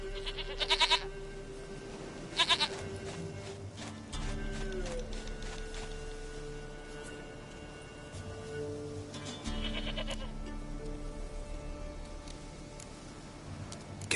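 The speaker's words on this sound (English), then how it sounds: "Goat of mine, dearest, sweetest goat." A goat in a PS4 video game bleats in two sharp, loud calls close together early on, then a third later, over a steady low game ambience with droning tones.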